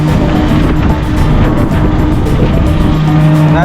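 A tuk-tuk drives near the Attari border in Amritsar, its engine buzzing steadily and loud up close with road rumble and traffic noise around it.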